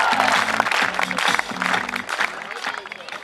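Audience applause and cheering at a live Hindi comedy show as a colonel arrives on stage, loud dense clapping with a voice talking over it throughout.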